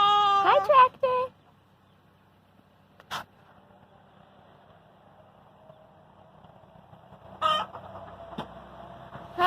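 Chickens on a farm cluck and squawk in short bursts, loud at first then scattered, with long quiet stretches and a faint engine hum between calls.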